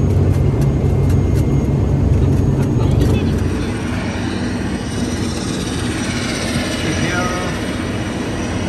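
Airplane landing at Kathmandu airport after a flight from Bhadrapur: a steady, loud roar of engine and rolling noise fills the cabin, dropping slightly partway through as the aircraft slows, with talk faintly mixed in.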